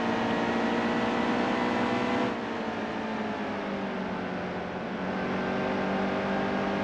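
Race car engines in NASCAR Heat 2 hold a steady, loud, high-pitched drone with a slight dip and shift in pitch midway, a continuous racing roar with no talk.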